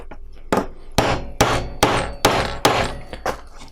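A hammer strikes a half-inch tool-steel setter driving a rivet into leather, with six sharp, loud, close blows at a steady pace, each ringing briefly, and no voices.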